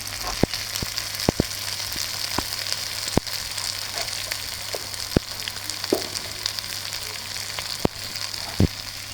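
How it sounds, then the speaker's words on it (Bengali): Spices with turmeric sautéing in a pan for a curry of free-range country duck, giving a steady, close sizzle broken by sharp pops and crackles, with no voices. "সবগুলো একসঙ্গে ভালো করে কষিয়ে নেব মশলাগুলো।"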